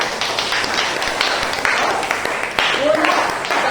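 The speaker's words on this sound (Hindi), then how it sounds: "जोर से प्रभु को ताली बजाओ" Congregation clapping for the Lord during a Hindi-language church service, a steady wash of many hands applauding continuously throughout, fairly loud and dense, with crowd voices mixed underneath.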